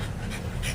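A tired dog pants close by, quick rhythmic breaths for under a second with no other sounds.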